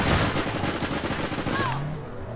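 Rapid gunfire from the online shooter game APB Reloaded rattles continuously across the whole stretch, dense and loud, with a brief tonal blip near the end.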